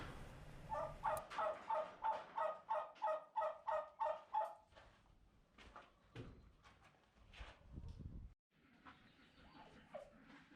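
Turkeys gobbling inside a coop, a rapid run of about ten rhythmic rattling gobbles followed by scattered shorter calls and knocks, close and moderately loud with a brief quiet gap near the end.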